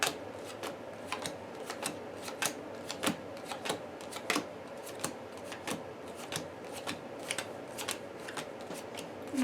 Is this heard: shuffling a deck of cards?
yes